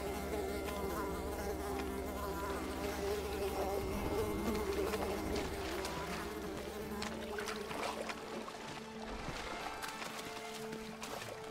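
Flies in the video game Unravel give a steady, dense buzzing that drones through the whole stretch, layered over continuous background game music.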